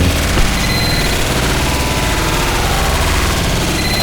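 A sentry gun in a first-person shooter unleashes dense, loud, continuous rapid fire, a harsh wall of overlapping shots and impacts with no pauses.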